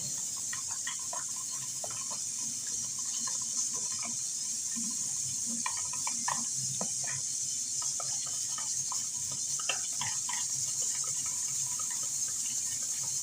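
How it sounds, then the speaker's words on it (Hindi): Water trickles steadily while being added bit by bit to a bowl of batter for begun fritters, a constant close running-water hiss with small clinks and stirring taps scattered through it, no talk. "इसलिए थोड़ा थोड़ा करके पानी मिलाएंगे।"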